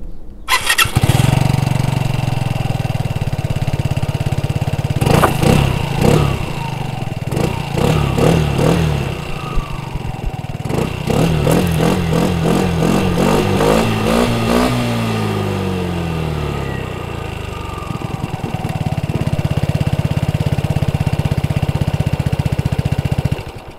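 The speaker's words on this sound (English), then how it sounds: "So this is the Piaggio Liberty S ABS 125, 11 horsepower" A 2021 Piaggio Liberty S ABS 125 scooter with an 11-horsepower engine starts up close by, idles, then revs repeatedly and accelerates with rising engine pitch before settling back to a steady idle.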